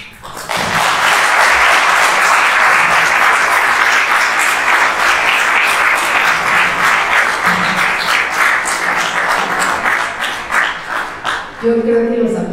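An audience applauds at the end of a lecture, sustained loud clapping that carries on for about ten seconds before thinning out, with a voice speaking at the very end.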